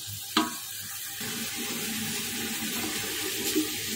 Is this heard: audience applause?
no